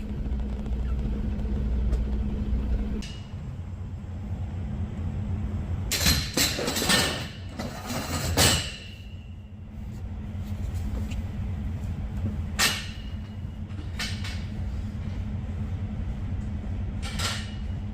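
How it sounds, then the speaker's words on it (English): Reefer semi truck backing into a loading dock, a low idling rumble heard from the cab, interrupted by several loud metallic bangs and clunks in bursts, then more scattered knocks over the continuing engine hum. "just backing into the dock right now"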